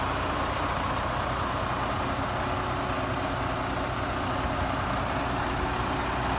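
A 2015 Freightliner Cascadia tandem axle tractor with a DD15 diesel engine idles steadily, a dense, even rumble with no change in rhythm or level and no voices.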